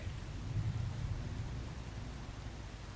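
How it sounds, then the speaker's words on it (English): Steady rain falls in the Once Human video game, a dense, even hiss with a low rumble underneath and no voices. "It's been raining a lot"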